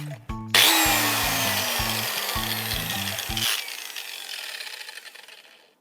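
A handheld disc grinder cuts into material at close range, a loud, steady harsh whine after a short clattering start that runs for about three seconds before spinning down and trailing off.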